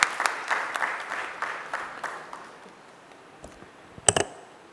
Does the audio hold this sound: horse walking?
no